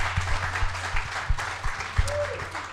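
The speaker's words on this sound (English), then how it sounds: "How about a round of applause" Audience at a live Packers clubhouse show applauds with steady, fairly close clapping from a modest crowd, mixed with a few stronger individual claps and a brief whistle-like tone near the end.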